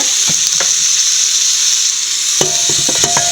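Marinated beef pieces with bone fry in a pan, a loud, dense, continuous sizzle heard up close, with spatula stirring and scraping clatter toward the end.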